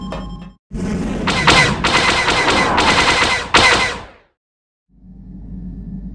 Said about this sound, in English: Someone needs to get on those gun turrets. Take those fighters out before they report our position to the main fleet.